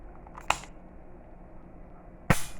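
Two loud, sharp shots from an EAA Windicator revolver, about two seconds apart, fired outdoors against a steady low background hum.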